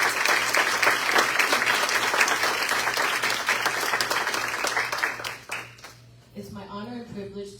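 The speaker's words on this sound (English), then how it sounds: "Let's give them a round of applause." Sustained audience applause for educators being honored at a board of education meeting, dense and steady, then tapering off as a speaker's voice begins near the end.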